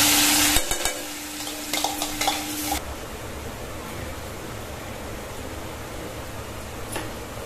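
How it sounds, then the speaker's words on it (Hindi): Garlic and chili hit hot oil for an aloo paratha filling, giving a loud, close burst of sizzling and stirring that settles into a steady, softer frying hiss. No one speaks. "इसमें डाल दूंगी मैं लहसुन मिर्च।"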